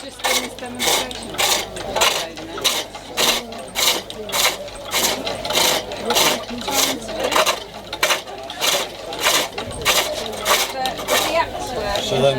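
Roughing gouge cutting a fresh wood billet on a springpole lathe, steady rhythmic scraping strokes repeating about once a second, close and fairly loud, with voices talking over it.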